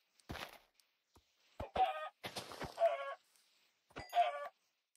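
Several short bursts of video-game chicken clucking, three or four quick calls, each clear and fairly close, spaced by brief silences with no talking over them.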